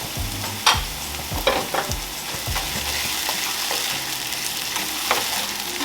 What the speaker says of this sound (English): when your onions are about halfway, you want to add in your garlic